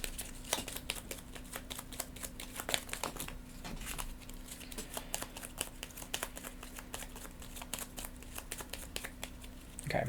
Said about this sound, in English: we'll shuffle their deck up